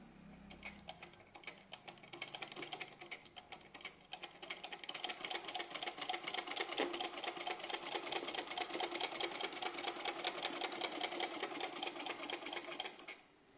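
A sewing machine stitches cloth in a fast, steady mechanical whir and clatter. It starts softly, then runs continuously and evenly for over ten seconds before stopping abruptly. No voices are heard.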